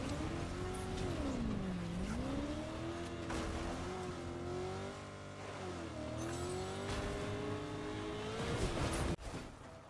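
A car driven in Fortnite, engine droning steadily with pitch rising and falling as it revs and slows, tires scraping and squealing at moments, ending in a sharp thump.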